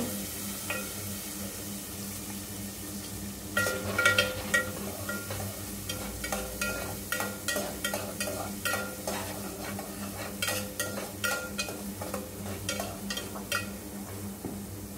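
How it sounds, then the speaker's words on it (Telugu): Ginger garlic paste and onions frying in a pan for a meal maker curry, stirred with a utensil that clacks and scrapes in quick irregular bursts over a steady sizzle, close and fairly loud, with no talking. "మంచిగా ఫ్రై చేసుకోవాలి అంతా"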